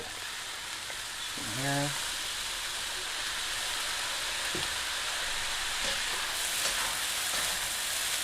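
Soy sauce hits a hot pan while fried rice cooks, giving a steady moderate sizzle and hiss with a short scraping stir near the start and a brief spoken word.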